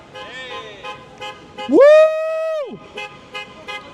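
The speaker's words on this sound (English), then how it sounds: "I heard a honk over there." A car horn honks once, a sustained toot of roughly a second, loud and close, amid excited voices and cheering.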